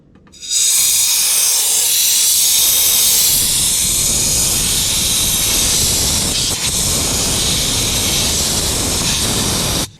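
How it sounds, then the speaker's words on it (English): Compressed air hisses loudly and steadily from a blowgun for several seconds, clearing debris during exhaust manifold replacement on a 2007 Chevy Silverado Classic, a broad rushing blast with no voices. "I'm just going to use a blowgun and blow this debris here"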